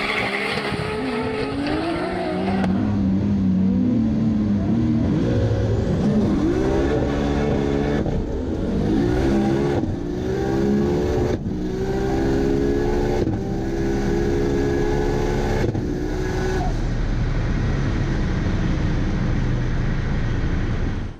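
Skyline GT-R race cars launch hard down a runway, one with a PPG sequential gearbox, engines climbing through rapid, stepped upshifts over roaring exhaust, loud and close with tire noise throughout.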